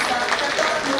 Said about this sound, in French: Mesdames et messieurs, on va applaudir encore